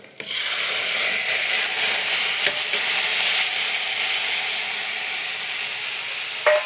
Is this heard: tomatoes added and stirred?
yes